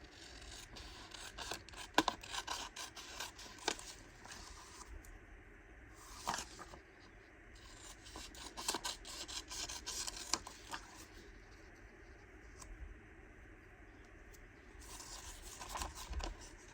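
Scissors snip and rasp through paper for a junk journal, a quiet, close run of small cutting and rubbing sounds with occasional sharper snips.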